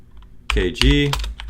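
A few keys are pressed on a computer keyboard during router setup, sounding as quick close clicks under a voice after a short quiet start.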